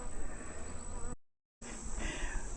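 A honey bee buzzes close by around an opened bee box after smoking, a faint steady drone broken by a brief gap of silence.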